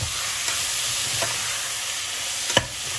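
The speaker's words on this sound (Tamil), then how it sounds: "இப்போது தக்காளி நல்லா வதங்கிட்டுருக்கு." Tomatoes sautéing in a pan for Madras-style prawn biryani, giving a steady soft sizzle with a few brief stirring scrapes, fairly close and moderately quiet, with no talking.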